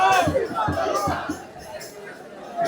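Night protest crowd at Jantar Mantar, a dense babble of many voices chattering together, steady and fairly loud throughout with no single voice standing out.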